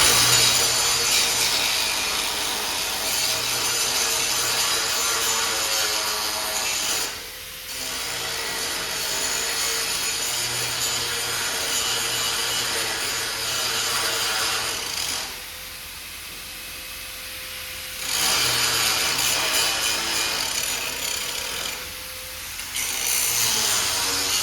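An angle grinder grinds the top of clamped material flat, a loud continuous abrasive roar broken by three short pauses where the disc eases off, then resumes.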